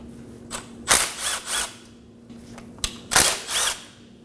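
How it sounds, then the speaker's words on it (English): A 12mm socket ratchet works bolts loose on a 2016-2020 Kia Sorento during front left CV axle removal: a few short metallic ratcheting bursts in two groups, close and moderately loud, with quiet gaps between. "Using a 12mm socket, we're gonna go ahead and remove these two bolts."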